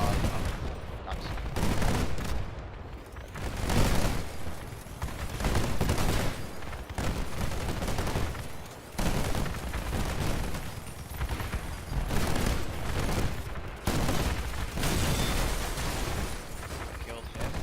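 Heavy multi-barrel gunfire from a big gunship vehicle in the combat game Crossout, dense continuous bursts and explosions rolling on without pause, loud and close, with a voice talking over the chaos.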